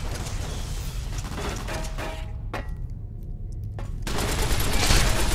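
Rapid bursts of automatic fire from a 10 mm machine gun in a Fallout-style wasteland game, loud and close, with a brief pause of scattered shots midway before another sustained volley.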